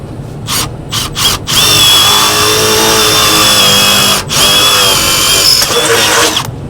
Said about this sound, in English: Then I'm going to go ahead and drill a test port